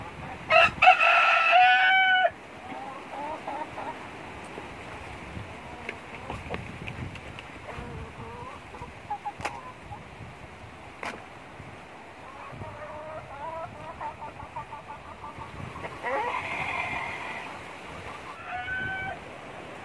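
A rooster crows loudly at the start, then hens cluck and chatter nearby over a steady outdoor background in the Philippines, with another crow rising near the end.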